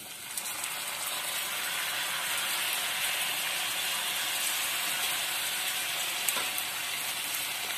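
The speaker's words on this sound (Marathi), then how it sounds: "ते दूध मी आता इथे ऍड करते" Saffron-infused milk poured into a sweet mixture roasting in a hot pan sizzles loudly and continuously as a dense, hissing fry close by, with a faint clink partway through and no talking.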